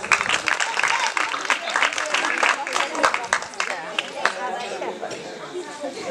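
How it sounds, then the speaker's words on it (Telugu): Audience clapping at a Telugu stage skit, a dense, steady patter of hand claps filling the whole stretch at moderate loudness, with crowd chatter mixed underneath. "క్లాప్స్."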